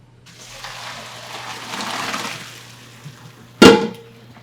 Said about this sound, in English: Strain it out.